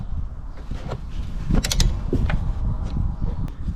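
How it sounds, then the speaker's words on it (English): Metal wrench work loosening a 13mm nut holding a Jeep Grand Cherokee WK wiper arm to its spindle, with close creaking and clicking mechanical sounds in short bursts over a steady low background rumble. "So this 13mm nut needs to be loosened"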